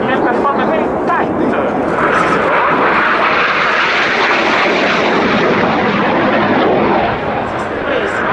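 A Frecce Tricolori Italian Air Force jet performing a tight display manoeuvre at the RIAT 2011 airshow, a loud, sustained roaring whoosh with an announcer talking over it.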